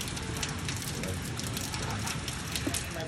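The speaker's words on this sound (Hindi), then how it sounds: "ये देखो भाई बारिश तो लगी हुई है" Steady rain falls in the Philippines as a typhoon approaches: an even, dense hiss of drops on surfaces, fairly quiet and continuous, with no other clear sounds.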